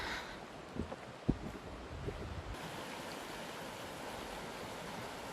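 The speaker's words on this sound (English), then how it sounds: "The little river is crystal clear." A small, crystal-clear river flows through a cliff-lined gorge in Cheile Taii, Southern Transylvania, a steady broadband rush of water with a few faint knocks and rustles early on.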